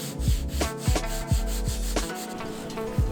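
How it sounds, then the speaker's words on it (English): High-grit sandpaper rubs over the edges of a foam climbing hold in short back-and-forth strokes, close and fairly loud, a dry scratchy rasp repeating about every half second with no talking. "Then using high grit sandpaper, all the edges and bumps are smoothened out."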